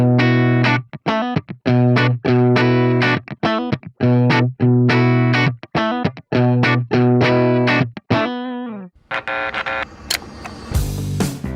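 A Behringer Chorus Symphony all-analog chorus pedal is driven into overdrive, giving choppy, repeated distorted harmonic chords in a quick stuttering rhythm. A noisy, crackling burst of buzzy static follows near the end. The sound is loud and up close.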